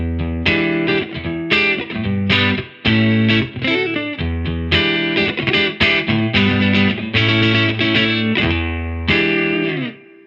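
A Maybury Fish Hook S-Type Strat-style electric guitar played through its neck single-coil pickup, warm and round with light effects, strummed chords and funky riffs in steady phrases, close and loud, no voices.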